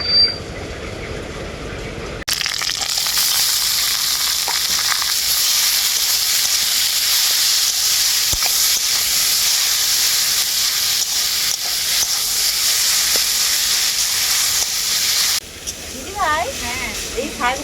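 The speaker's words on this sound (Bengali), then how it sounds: "এখন আমি সেদ্ধ করা শাকটা দিয়ে দেবো এর মধ্যে" Boiled greens hit a hot wok with a sudden loud hiss, then sizzle steadily and evenly for many seconds before the sound drops and a voice speaks briefly at the end.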